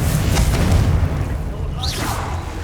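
A Confringo blasting spell explodes in Hogwarts Legacy with a deep, booming burst that rolls out over the first second, followed by a whooshing magical sweep.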